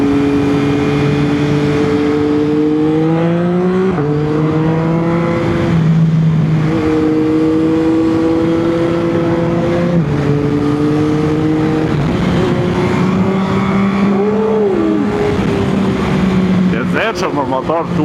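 A Yamaha Tracer 9 sport touring motorcycle being ridden, its engine note climbing steadily in pitch and then dropping at each gear change, repeating through several shifts, loud and close with wind noise.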